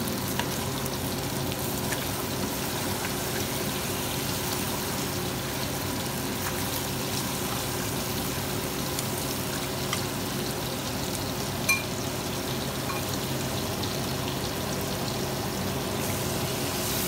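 Guyanese masala fish curry sizzling and frying in a pot without added water, a dense, continuous crackle and hiss held at steady loudness throughout, close by, with no talking.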